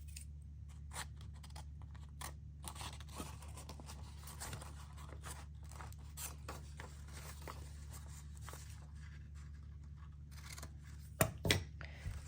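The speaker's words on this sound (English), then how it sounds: "let's cut off this corner, and then cut off this corner." Scissors snipping the corners off a handmade glassine bag, quiet close crisp cuts scattered over a low steady hum, with a few sharper louder snips near the end.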